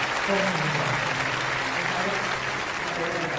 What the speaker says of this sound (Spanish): Aplauda al Señor.